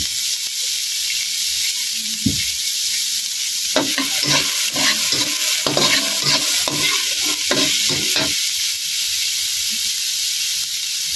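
Sinangag garlic fried rice stir-fried in oil in a pan, a constant close sizzle and hiss with bursts of scraping and stirring strokes in the middle, no talk.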